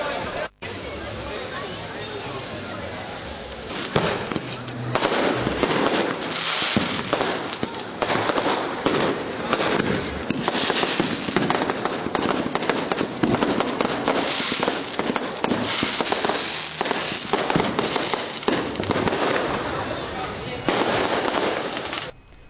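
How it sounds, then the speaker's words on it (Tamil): A fireworks display in front of the secretariat gives rapid, irregular pops and crackling bursts over a steady murmur of crowd chatter, continuing for about twenty seconds. "இதனையடுத்து தலைமைச் செயலகம் முன்பு வான வேடிக்கை நிகழ்ச்சி நடைபெற்றது."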